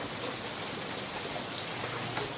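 Steady rain falls on plants and the ground after a dry, hot spell, making an even, continuous hiss with scattered drops and no voices.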